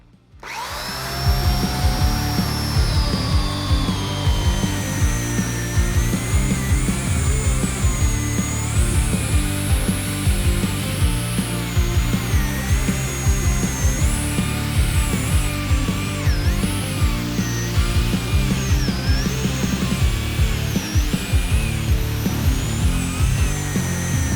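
An electric chainsaw cuts through a thick log about 40 to 50 cm across, a loud, continuous whining motor and chain drone that holds steady for over twenty seconds, close and alone.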